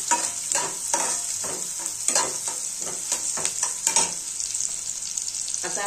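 Onions fry in oil while a spoon stirs them, giving a bright continuous sizzle broken by repeated scraping strokes against the pan, close up.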